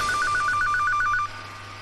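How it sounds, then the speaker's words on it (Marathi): A telephone bell rings in a rapid trill of about ten evenly spaced pulses that stop abruptly, loud and close, over a faint low hum with no talking. "अरे फोन वाजायला लागलाय."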